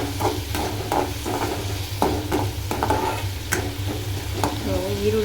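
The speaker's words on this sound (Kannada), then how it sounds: "ಈರುಳ್ಳಿ ಬೆಳ್ಳುಳ್ಳಿ ಒಟ್ಟಿಗೆ ಫ್ರೈ ಮಾಡೋಣ." Onion and garlic frying together in a pan for a bitter gourd stir-fry, with steady close sizzling broken by repeated stirring scrapes and clinks against the pan, no voices.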